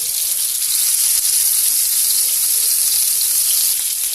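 Seekh kebabs fry in a pan with a steady, loud, hissing sizzle that carries on without a break.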